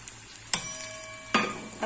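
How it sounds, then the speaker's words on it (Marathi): Asafoetida dropped into hot oil for tempering while making a spicy pickle: two sharp bursts of sizzling crackle about a second apart, close and fairly quiet, each fading into a soft hiss. "आता आपल्याला हिंग फोडणीत घालायचं आहे"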